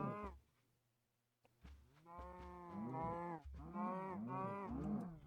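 Cows lowing in Minecraft (GregTech New Horizons), a run of synthetic bovine moos after a brief near-silent gap, several overlapping calls rising and falling close by, loud and without speech.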